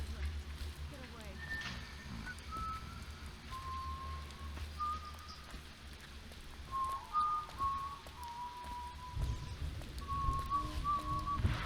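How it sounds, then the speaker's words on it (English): A person whistling inside the video game Dishonored, a wavering tune of sustained notes in a loose melody amid steady rain and low game ambience, fairly faint. "Wait, who's fucking just whistling?"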